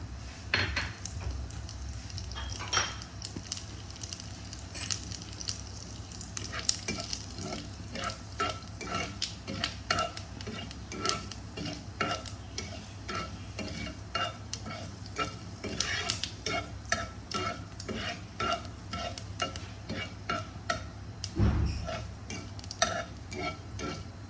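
Panch phoron spices frying in hot oil for a samosa filling, a steady close sizzle with a dense run of spoon scrapes and clinks against the pan throughout, and no voices.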